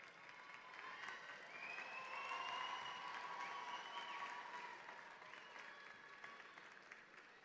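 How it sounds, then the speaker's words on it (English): Sustained applause from a large crowd of families and graduates standing at a fall university commencement ceremony, a steady wash of hands clapping that holds evenly for several seconds with faint tones over it. "Stand and applaud."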